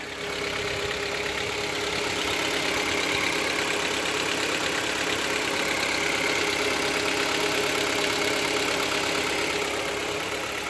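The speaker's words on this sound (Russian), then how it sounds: "по мере того, как упадут обороты, будет проявляться цоканье поршней" A 2014 Kia Cerato engine idles with piston knocking, a steady, close, dense mechanical drone that holds an even level throughout and has no talking over it.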